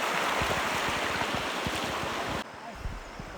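Strong current of the Hansari river rushing loudly and steadily, a dense broadband roar with choppy low surges, easing slightly near the end.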